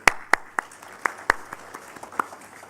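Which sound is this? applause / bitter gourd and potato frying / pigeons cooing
applause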